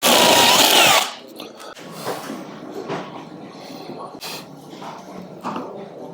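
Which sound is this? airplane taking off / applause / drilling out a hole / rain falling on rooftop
drilling out a hole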